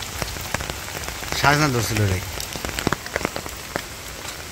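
Steady rain pattering on surfaces around a village on a rainy day, close and dense with distinct drops, while a person briefly speaks over it.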